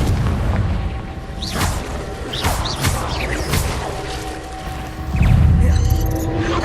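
Spell explosions and magical combat effects from the Hogwarts Legacy video game: loud booming blasts with whooshes and crackling bursts, one after another, ending in a heavy rumbling impact.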